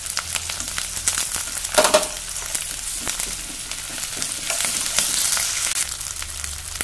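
A paste of green chili, garlic and ginger fries in a pan with a continuous hissing sizzle, close and fairly loud. Occasional stirring scrapes come through, and there is no talk.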